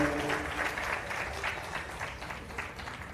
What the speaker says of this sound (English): Let's give Mr. Tots another big round of applause.